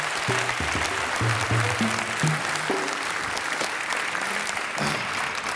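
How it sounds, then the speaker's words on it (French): Dense, continuous applause from a studio audience on a live Saturday-night French television show, a sustained wash of clapping with some low musical or voice tones underneath, steady throughout. "Serge Firmin, c'est vos applaudissements, s'il vous plaît."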